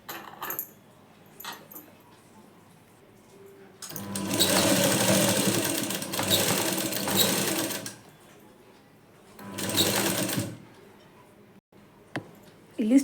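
A sewing machine stitches the front panel of a plain blouse in two steady running bursts, one long and one shorter, close and loud, with quiet handling clicks and rustles of fabric between them.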